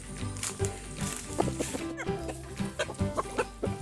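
A chicken clucks repeatedly in bursts while being put into a village lake to swim for exercise, with splashing water and some background voices.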